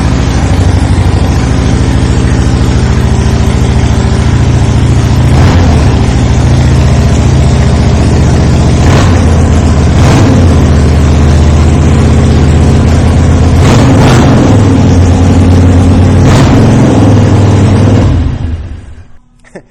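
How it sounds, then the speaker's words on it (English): A 2017 Harley-Davidson Iron 883 with a Vance & Hines Short Shot exhaust idles loud and steady at close range, its deep throb punctuated by a few sharp revs before cutting off at the end. "go ahead and fire this bike up so you can hear that Vance and Hines short"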